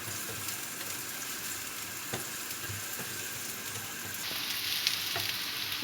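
Finely chopped onions stir-fry in a pan, with a soft steady sizzle and occasional light scrapes and taps of stirring, quiet and close.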